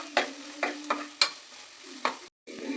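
Egg gravy masala is stirred in a frying pan: a spoon scrapes and taps against the pan several times in an uneven rhythm over a soft, continuous sizzle.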